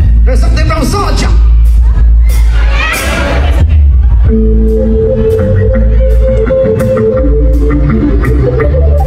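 A live band concert crowd in Toronto cheers and shouts loudly under an amplified voice, then the band launches into music partway through.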